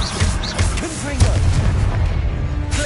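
Repeated Confringo fire-blast spells booming in Hogwarts Legacy on PS5, heavy explosive bursts stacked densely over a rumbling battle din with a shouted voice.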